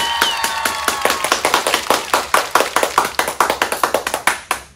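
About two dozen sharp hand claps ring out in a steady, evenly spaced rhythm, close and loud, with a faint tonal chime fading early on.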